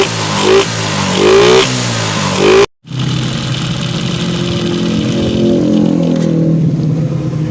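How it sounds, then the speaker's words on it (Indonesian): Suzuki Shogun 125 motorcycle, just repaired for stalling and sputtering, revved up and down in quick surges close by, then after a brief cutout it holds a loud, steady raised-rpm drone with no talking. "Coba kita geber"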